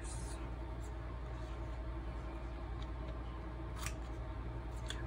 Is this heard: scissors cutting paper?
yes